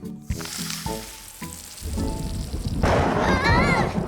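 After a few plucked musical notes, a cartoon thunderstorm breaks in with a rumbling crash and hissing rain, growing louder toward the end.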